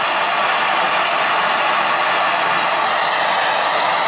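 A torch heats a copper water line pipe during a plumbing repair, giving a loud, steady, roaring hiss that stays unchanged and alone throughout.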